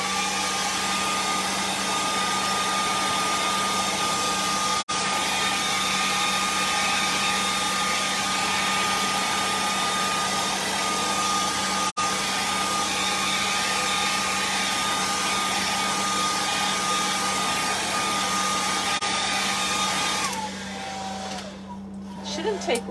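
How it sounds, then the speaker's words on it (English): A blow dryer drones steadily and loudly on black paint for most of the stretch, a constant whir with a low hum, then cuts off near the end. "I'm gonna take my blow dryer to get that black a little drier."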